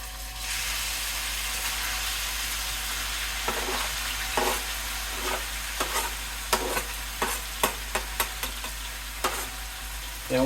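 Thai green curry mix stir-frying in a pan with chicken to follow, a steady sizzle under repeated scraping and clacking stirring strokes that grow busier toward the end.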